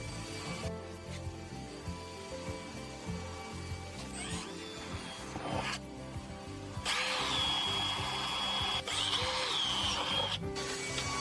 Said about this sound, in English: We start with a smaller drill and drill the outer sheet at all 4 markings on the body.